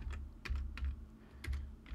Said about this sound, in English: you can type a ribbon in the command bar. Just type in